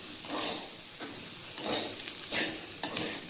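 Crushed peanuts and green chillies being sautéed in a pan, a gentle sizzle with rhythmic scraping stir strokes and two light spoon taps against the pan, close and quiet.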